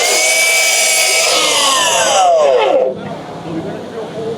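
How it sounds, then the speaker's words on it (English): A Hilti miter saw cuts through stock at a busy concrete trade show, a loud whining buzz that drops in pitch under load and then winds down, with crowd noise behind it. "We have a Hilti miter saw."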